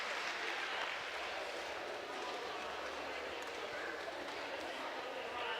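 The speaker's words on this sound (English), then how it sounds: "The audience is giving her a round of applause." Applause from a roller derby crowd for an injured skater being helped off a concrete floor, steady broadband clapping filling the whole stretch with a general arena din underneath.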